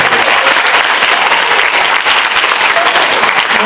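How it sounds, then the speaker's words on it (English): A debate audience in a high school hall breaks into dense, loud applause from many hands, a steady wash of clapping that fills the whole stretch without letup. "Please hold your applause till the end of the program"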